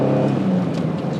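A 1991 Acura NSX engine pulls hard in first gear, a steady loud drone with a rising tonal whine, close and continuous throughout.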